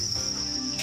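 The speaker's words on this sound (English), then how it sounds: "That is a lot of crickets." A dense, steady chorus of many crickets chirps without a break, moderately loud and close, with no voices over it.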